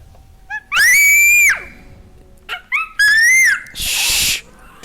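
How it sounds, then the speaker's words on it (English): Two-year-old child screaming into a microphone, several loud, shrill, piercing shrieks in quick succession, very close and distorted, ending in a harsh clipped burst. "Do not scream in the microphone."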